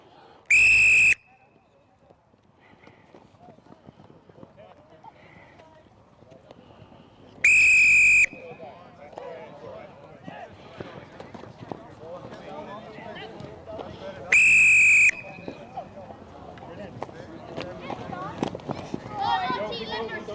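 Three sharp, loud blasts of a coach's whistle at a hurling training session, spaced several seconds apart, cutting over steady background chatter, movement and shouting on the pitch.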